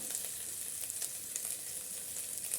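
Chili and turmeric powder fry in a pan for a pilaf with cauliflower, giving a soft, steady sizzle with small crackling pops throughout.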